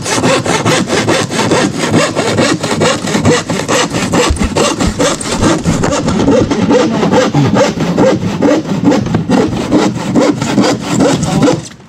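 A hand saw rasps through plywood while house beam forms are being built, loud and close, with fast, even back-and-forth strokes that continue steadily from start to finish.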